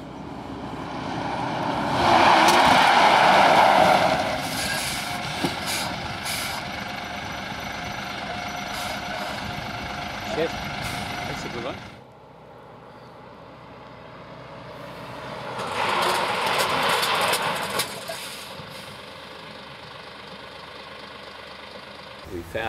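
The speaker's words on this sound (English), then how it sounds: "We then carry out a series of brake tests and a series of lane change tests." A truck running brake and lane-change tests, with a steady engine drone that swells loudly, drops away abruptly, then builds again, heard at moderate distance.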